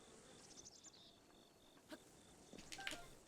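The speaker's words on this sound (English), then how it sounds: "Bees are after me." Bees buzz in Breath of the Wild, a faint, wavering insect drone with scattered chirps and short bright game sounds over a quiet background, no voices.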